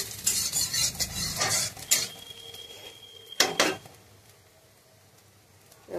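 Chopped onions sizzle and fry in a pan while being stirred, with loud scraping stirs and utensil clinks over the first few seconds, then a quieter steady sizzle with one more burst of stirring midway.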